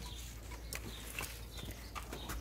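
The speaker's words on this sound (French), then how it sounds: "je vais donner à mes poules" Hens in an urban backyard chicken coop give a few faint, scattered clucks and calls over a steady low hum, with light rustling and no talk.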